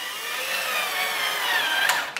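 A power drill whirs steadily while driving screws to mount drawer slides, a continuous close whine that winds down and ends with a couple of short clicks near the end, with no talking.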